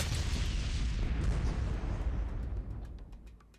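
Rumbling explosions from a tower in modded Bloons TD6, a dense roaring blast wash that slowly fades, with a few light clicks near the end and no voices.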